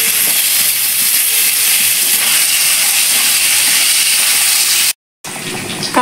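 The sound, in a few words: salted turmeric-coated potatoes added to hot oil, sizzling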